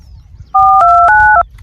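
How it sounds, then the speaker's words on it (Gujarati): Telephone keypad tones beep in a quick sequence of about four close, loud dual-tone presses as a call is dialed, with faint background rumble before and after. "કર ફોન કર ને જો ફોન"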